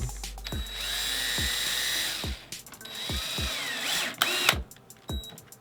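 A power drill drives a screw with a washer into a piece of wood, with a few short whirring bursts broken by brief clicks and knocks, close and loud, and no one talking.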